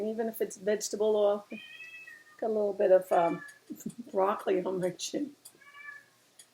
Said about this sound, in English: So that's my cat complaining.